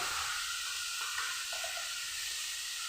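Slit green chilies sizzle in hot oil, a steady close hiss of frying with faint scraping stirs, no voices.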